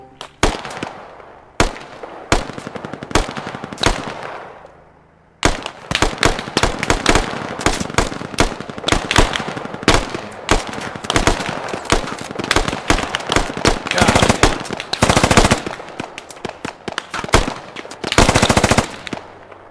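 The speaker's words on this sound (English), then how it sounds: "LMG suppressed." Light machine gun fire in the Squad video game rattles in long bursts and scattered single shots, loud and dense, with a brief lull before the firing resumes even heavier.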